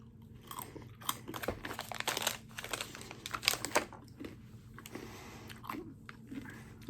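Crunchy dried mozzarella cheese snack bitten and chewed close to the mic, steady loud crunching over several seconds with brief pauses between bites.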